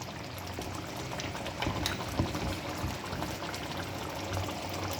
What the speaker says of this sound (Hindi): लेकिन अभी हमने इसको और मज़ीद पकाना है